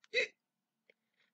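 A single voiced hiccup imitated by a reader telling a children's story about a little sheep, short and close, followed by faint breathy traces in an otherwise quiet room.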